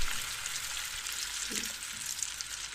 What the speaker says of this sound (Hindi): इसी के अंदर हम 2 प्याज मज़ीद इस तरीके से चॉप करके ऐड कर देंगे और इन प्याज को फ्राई करेंगे।